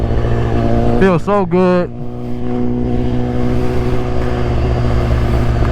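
An S1K motorcycle engine drones steadily while riding, its low hum running under a short burst of speech early on and then carrying on alone.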